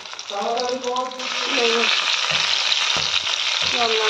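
Boiled flat beans frying with chili and garlic in hot oil give a steady close sizzle and crackle, with stirring scrapes throughout and a voice talking over the first half.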